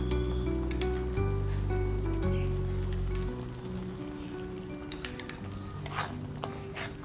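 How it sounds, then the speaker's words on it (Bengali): Spice masala for paneer kasha fries in a pan with a soft, steady sizzle, while a utensil scrapes and clinks against the metal now and then. "এরপর মশলাটা খুব ভালো করে কষিয়ে নেব"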